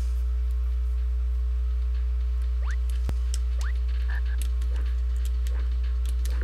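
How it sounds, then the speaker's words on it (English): Cartoonish frog croaks from The Flintstones on SNES repeat as short rising chirps over steady game music hum, with one sharp click midway. "There's Roscoe again, a frog"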